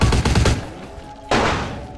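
Uzi gunfire in a video game: a rapid burst of shots at the start, a short pause, then a loud sharp blast that rings out and decays, fairly close and with no speech.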